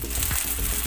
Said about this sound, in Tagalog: Magprito na tayo guys.